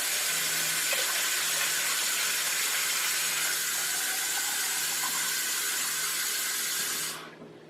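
Chicken broth in a pot on a turned-up stovetop heating toward a simmer, a steady close hiss with faint bubbling that holds evenly and then cuts off abruptly near the end.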